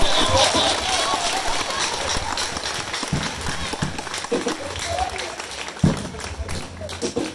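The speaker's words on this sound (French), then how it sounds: "Si tu es content cette nuit, acclame le Seigneur." A church congregation at a night service applauds and cheers for the Lord, with rapid crowd clapping and shouts under a continuous wash of voices, loud and close throughout.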